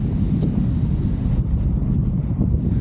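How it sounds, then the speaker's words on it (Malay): Strong wind roars at sea on a fishing boat, a steady, loud low buffeting rumble against the microphone with no break. "Lihatlah, angin agak kuat dan arus agak laju."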